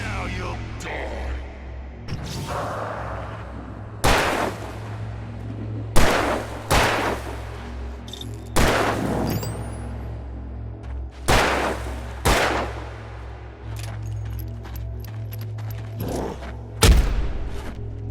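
Gunfire in the video game Alan Wake Remastered: a series of sharp, loud shots fired one at a time at irregular intervals, each ringing out briefly over a low, steady ambient drone, with occasional speech faintly between them.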